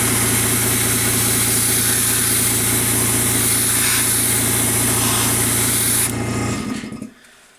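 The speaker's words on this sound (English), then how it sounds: "I'm going to test out the airbrush. It is a little loud, sorry about that" Airbrush with its compressor running spraying paint onto an N scale model train car, a steady loud hiss over a constant motor hum that cuts off and fades out near the end.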